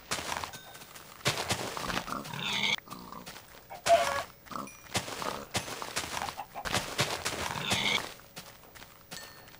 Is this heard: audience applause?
no